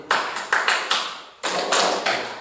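A classroom of students answers a teacher's signal with sharp claps in quick pairs, two bursts close together, then a further double clap after a short gap, loud and near with no talking.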